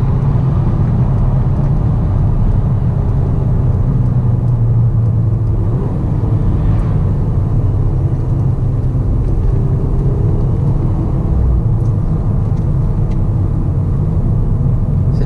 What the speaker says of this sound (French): C'était le petit message de la Golf 6R pour les abonnés Vidauto.